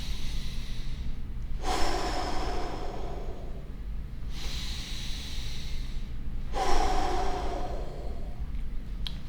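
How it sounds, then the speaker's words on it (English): Three slow, deep breaths are drawn in through the nose, each a long, close, rushing inhale with a quiet pause between them, heard without any talk. "So after that, you need to breathe deeply."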